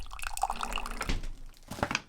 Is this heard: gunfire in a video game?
no